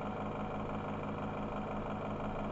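An AC servomotor coupled to a DC machine runs on a laboratory test rig at about 1750 RPM, making a steady, continuous mechanical hum with no talking.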